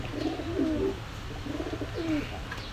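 Two soft, throaty coos from a male pigeon at a pigeon sale in Khulna, Bangladesh, roll out one after another, a brief gap between them, over a low steady background hum.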